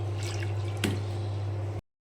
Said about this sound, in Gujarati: હવે આ પાણી ગંદુ કાઢી નાખીશું.